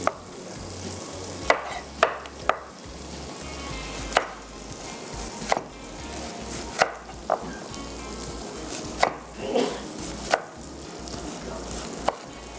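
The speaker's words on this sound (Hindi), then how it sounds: "रिंग काट लेते हैं प्याज के।" A knife slices an onion into rings on a board, giving irregular, sharp chopping strikes spread over several seconds. A soft sizzle of frying food continues beneath them in a home kitchen.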